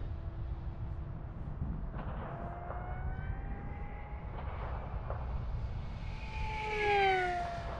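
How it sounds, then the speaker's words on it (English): A Durafly EFX Racer RC plane flies at full throttle, its electric motor whining steadily with pitch sweeping up and down as it passes, growing louder near the end. "I'm on full throttle."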